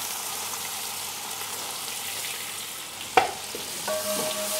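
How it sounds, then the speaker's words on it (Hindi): Chopped onions hit hot ghee already spiced with cardamom and cumin, giving a steady close sizzle with a sharp clank from a utensil and a faint tonal beep near the end. "अब इसके अंदर हम डाल देंगे चॉप प्याज"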